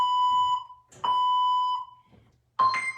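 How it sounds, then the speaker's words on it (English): Electronic workout interval timer gives three tonal beeps: two long sustained tones, then a final higher, shorter beep, clear and close with no talk. "You're going to listen for the beeps."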